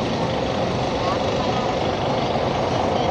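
Intercity Sumatra buses, ANS Lintas Sumatera coaches, rumble and idle in the parking yard of Poris Plawad bus terminal as a steady, loud drone of engines and traffic noise that never lets up.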